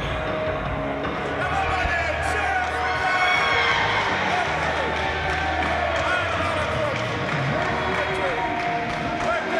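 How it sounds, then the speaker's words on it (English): Wrestling crowd cheering and shouting as wrestler Carlton Kaz heads to the ring, a dense, steady roar of voices with scattered whistles and a low rumble, talk mixed in throughout. "Getting a kind of a positive response from this crowd"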